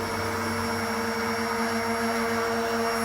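A handheld immersion blender whirs steadily while whipping mayonnaise in a home kitchen, a continuous motorized drone with a constant pitch and no speech over it.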